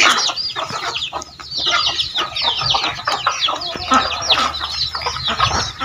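Hens and young chicks, a few days old, clucking and cheeping close by, with busy overlapping calls and high chirps continuing throughout.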